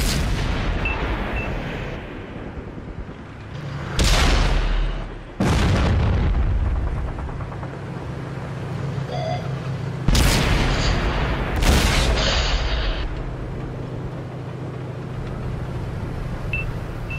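Tank cannons boom in World of Tanks, with a T26E5 in the match: several heavy, separate blasts, some near and loud and some farther off, over a low engine rumble.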